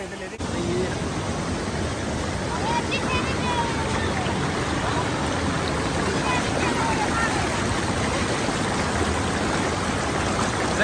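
Spring water flows steadily out of a cave, a constant broad rushing wash that fills the whole stretch, with faint voices murmuring beneath it.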